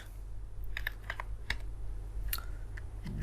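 Quick keystrokes on a computer keyboard while a layer name is typed in Photoshop, a short run of crisp close clicks in uneven bursts over a low steady hum.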